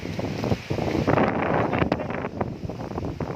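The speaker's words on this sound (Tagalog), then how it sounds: "Malakas ang ihip ng hangin." Strong wind buffets the microphone midway up Bongao Peak in Tawi-tawi, Philippines, a loud, continuous roar and rumble with gusty surges and no talk.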